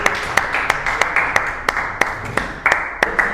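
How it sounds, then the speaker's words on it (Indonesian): A small group of students claps for a presenting group in a classroom, sparse, distinct claps in an uneven rhythm, fairly close and clear with little else around them. "tepuk tangan buat kelompok 2."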